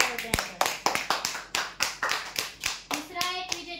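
Applause at a weekly prize-draw event breaks into a quick run of sharp, separate handclaps, a few hands clapping close by in a steady, slightly uneven rhythm for about four seconds, with a voice briefly heard.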